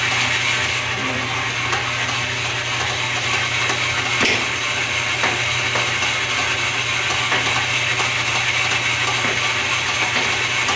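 A machine running in back gear gives a steady mechanical whir with a faint ratcheting clatter throughout, and one sharp click near the middle.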